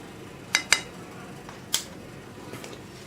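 Flour and baking powder being mixed in a bowl for a pound cake batter bring a few sharp clinks of a utensil against the bowl, two close together then one more, over a quiet background.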